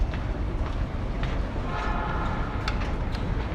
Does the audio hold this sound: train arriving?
yes